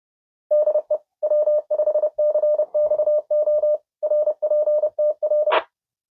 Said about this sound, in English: you can hear the repeater, and it was a nice strong signal